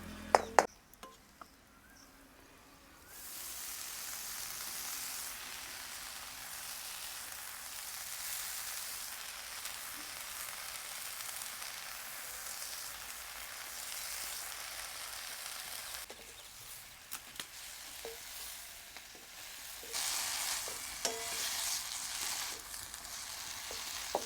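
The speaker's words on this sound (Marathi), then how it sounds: "भाजी चांगली परतून घ्यायची" A wild leafy vegetable sautés in hot oil with garlic and chili, a steady close sizzle and crackle that starts after a few clanks and continues for over twenty seconds with occasional stirring scrapes.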